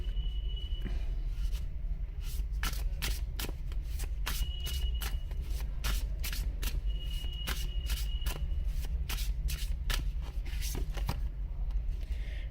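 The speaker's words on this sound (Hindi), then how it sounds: "ओके, शफल ही करूंगी" Tarot cards being shuffled by hand in repeated riffling bursts, close and steady over a low background hum, with no talking.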